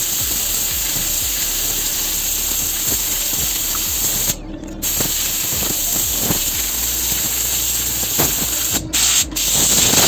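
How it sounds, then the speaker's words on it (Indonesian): Compressed air sprays in a steady loud hiss to dry a freshly rinsed universal OCT filter, continuous for ten seconds with two short breaks and faint clicks underneath. "Jadi ini terakhir kali kita semprot angin, keringkan."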